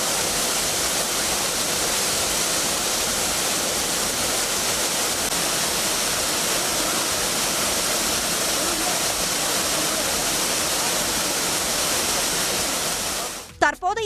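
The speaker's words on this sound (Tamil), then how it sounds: "ஒரு கதவணை திறக்கப்பட்டு தண்ணீர் வெளியேற்றப்பட்டது" Water rushes out through an opened sluice gate at the full Gokarpam dam, a loud unbroken roar of dense noise lasting the whole stretch before a brief disturbance right at the end.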